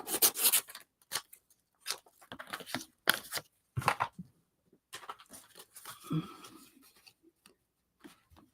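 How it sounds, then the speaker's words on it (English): Scissors snip and rustle through a paper mixed-media art piece in short irregular bursts, close up, with quiet pauses between cuts. "let me cut this down just to show you"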